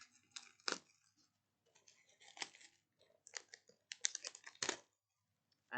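Cellophane wrapping being picked and peeled off a DVD case: faint, close crinkles and sharp crackling bursts in irregular clusters, with brief quiet gaps between them.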